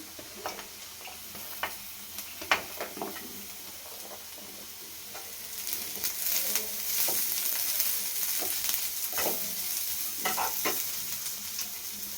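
Tomato with ginger garlic paste fries in a pan for a kurma, first quiet with scattered clicks of stirring, then a fuller, steady sizzle rising midway and continuing with spoon taps.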